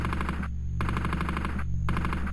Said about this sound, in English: I'm putting a lot of bullets in the wall though.